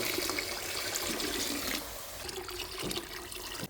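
Water pours from a jug into a pressure cooker, a continuous close splashing rush that changes pitch partway through as the cooker fills.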